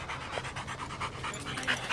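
A dog panting after killing a rattlesnake outdoors, rapid rhythmic breaths close to the microphone, steady and moderately loud with faint background noise.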